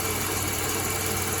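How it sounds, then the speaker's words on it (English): A 1991 Dodge Dynasty engine idles steadily with a possible misfire from old plugs, giving a continuous close rumble with a broad hissy wash and no voices. "Just listen to the engine for a second"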